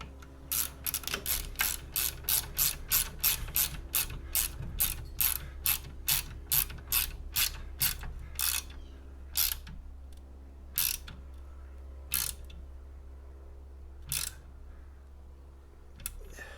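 Ratchet tightening a bolt on the seat of a John Deere 1025R compact tractor, a rapid run of close, sharp clicks that slows to sparse single clicks, with a low steady hum underneath.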